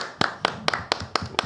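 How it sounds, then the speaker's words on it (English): Golf podcast hosts give a little round of applause, six or seven sharp, close hand claps in an even rhythm from just a couple of people. "Just can we just have a little round of applause?"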